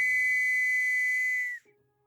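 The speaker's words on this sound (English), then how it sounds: "he blew on the whistle" A single whistle, blown during a fantasy audio drama scene, holds one steady, piercing high tone for about a second and a half and then cuts off abruptly, leaving near silence.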